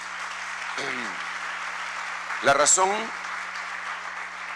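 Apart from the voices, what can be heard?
applause in church congregation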